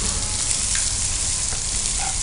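Onions frying in oil in a pan for a tomato dal, a continuous close sizzle with a few faint spoon taps, no voices.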